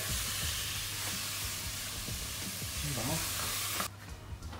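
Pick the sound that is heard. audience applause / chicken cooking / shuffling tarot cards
chicken cooking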